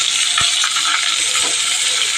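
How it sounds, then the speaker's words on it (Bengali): Eggplant frying in a pan on the stove gives a steady, close, dense sizzle throughout, with a few faint clinks and stirring scrapes. "বেগুন ভাজা হচ্ছে"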